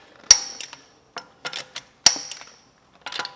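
Torque wrench on the lug nuts of a 2018 Mercedes C300, giving two sharp, distinct clicks about two seconds apart, with quieter metallic handling noises between them.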